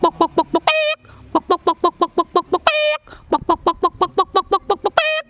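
A man imitates a hen with his voice: loud, quick runs of rhythmic clucks, each run ending in a drawn-out squawk, repeated three times with short pauses between.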